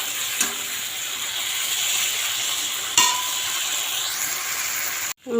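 Vegetables being stir-fried with spice paste in a pan give a steady, close sizzle, with a couple of sharp scrape-and-clatter strokes from the spatula and a brief clank near the end.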